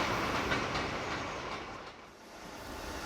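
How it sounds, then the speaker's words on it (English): A model railway goods train hauling empty rolling stock, double-headed, rumbles steadily past, a continuous dense rolling clatter that swells, dips slightly and rises again with no talk. "There weren't many goods trains on a Saturday, but this one always ran, taking empty rolling stock back to the docks"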